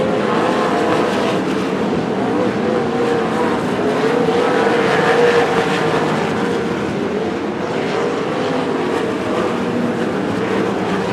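Sprint cars race around the Coos Bay Speedway dirt oval, a continuous loud roar of several engines rising and falling as the cars pass, with crowd and track ambience mixed in.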